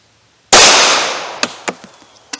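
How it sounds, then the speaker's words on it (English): A Ruger Security 9 pistol with a 4-inch barrel fires one Remington HTP +P 115-grain jacketed hollow point round as a single loud, sharp bang with a long ringing decay, followed by a few light clinks. "accuracy and velocity we get with the Remington HTP Plus P 115 grain jacketed hollow point out of the 4-inch barrel Ruger Security 9"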